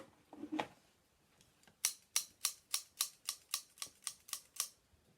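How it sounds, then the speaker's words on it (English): Crisp, rhythmic snips of scissors cutting, about a dozen evenly spaced clicks close up, after a brief rustle at the start. "That's right, it's the scissors."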